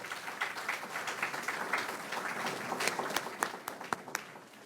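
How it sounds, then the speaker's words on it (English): An audience applauds public servants at a Southern Ohio grant announcement. The clapping is dense and steady, then thins into a few louder individual claps near the end. "So give them a big hand."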